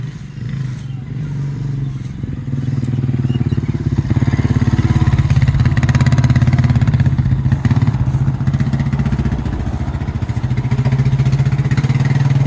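A 2005 Honda Rancher 350 ES ATV engine idles with a steady, loud mechanical rumble, rising after a few seconds and holding close and constant with some clattering, and no talking over it.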